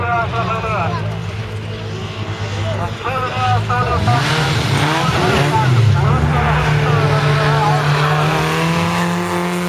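Folkrace cars tear around a dirt track at Laholm, engines revving and rising in pitch with loud, overlapping passes and tire noise, while a voice talks over the din.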